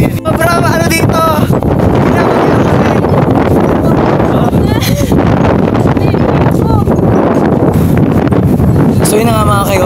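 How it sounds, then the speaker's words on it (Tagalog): Strong wind on a Mount Banahaw mountain trail roars steadily and loudly into the microphone, a constant buffeting rush that never lets up, with people talking over it. "Saka talagang inyong maririnig ang sariwang hangin. Napakalakas ng hangin"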